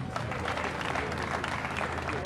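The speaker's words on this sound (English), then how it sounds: "Can you applaud him again?" Guests at the groundbreaking ceremony of a dome applaud a singer with steady, continuous clapping that fills the space without a break.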